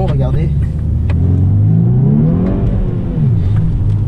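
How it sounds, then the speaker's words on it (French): A car engine accelerates from inside the cabin, its low drone climbing steadily in pitch and loudness over a few seconds while someone talks over it. "on va faire une petite accélération"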